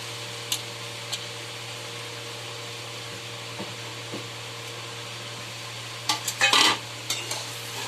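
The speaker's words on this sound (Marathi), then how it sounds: "आता आपण आपला रात्रीचा राहिलेला भात तो कढईमध्ये टाकून" Leftover rice with onion and tomato stir-fried in a kadhai: a few sparse, soft spatula scrapes and taps against the pan, then a brief busier cluster of scraping near the end, over a quiet steady background hum.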